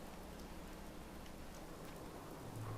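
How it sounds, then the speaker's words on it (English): Steady rain falls in the video game Fallout 4, a dense, even hiss that runs unbroken and moderately loud, with no voices over it. "The rain effects are pretty decent."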